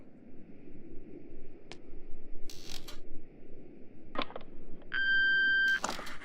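A phone rings in the video game Ether, heard as electronic beeps and bleeps that end in a sustained steady tone, set against a quiet ambient background with no voices.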